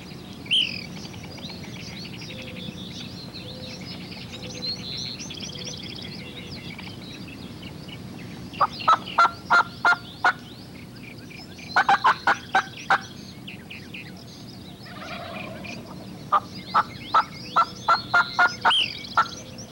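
Wild turkeys during a spring hunt: sharp clucks and yelping calls in short rhythmic bursts over a hushed outdoor background, moderately distant, with quieter chirping birds underneath.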